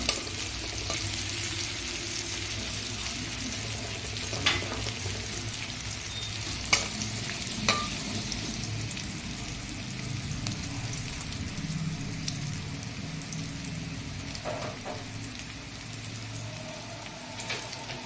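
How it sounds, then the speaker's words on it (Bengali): Onions frying in a pan, cooked to a light brown while being stirred. A steady, dense sizzle runs throughout, with a few soft clinks of the spoon and no talking. "পেঁয়াজটা আমি হালকা হালকা ব্রাউন করব, বেশি ডিপ করব না।"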